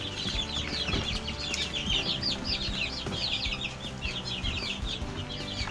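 A group of backyard chickens clucks steadily, overlapping calls close by with faint bird chirps in the background and no talking.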